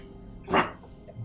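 A single close, loud dog bark, short and gruff, with a faint low growl-like rumble trailing after, offered as the sound of fiery fantasy hounds.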